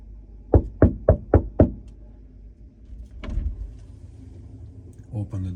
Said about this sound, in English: I'm gonna knock 3 times.